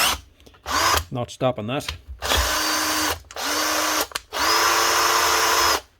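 A Hikoki DV 18 DGL cordless drill with a stripped gear runs at low speed in three sustained whirring bursts, close and steady. Brief trigger blips come before them, and someone speaks briefly early on.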